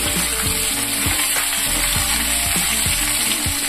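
Vegetables for cucumber chutney fry in a pan with a loud, continuous sizzle, under a steady rhythmic musical beat.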